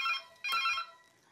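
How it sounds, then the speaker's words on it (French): A telephone rings indoors in a household kitchen, two short electronic trilling bursts separated by a brief gap, moderately quiet and alone. "Tiens, le téléphone sonne."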